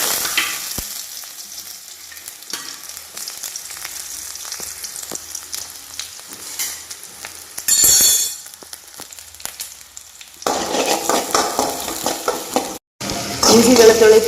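Mustard seeds crackle and sizzle in hot oil as they are stirred in a home kitchen pan, a steady close frying hiss that flares around the middle, grows louder near the end and cuts out for a moment.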